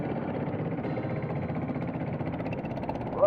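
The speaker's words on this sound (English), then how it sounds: "Hear that exhaust note" A steady, low exhaust rumble from a Triumph Street Twin cafe racer with a hole in the exhaust runs throughout, moderately loud and fairly even, with a brief rise in revs at the end.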